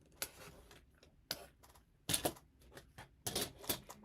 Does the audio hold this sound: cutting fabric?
yes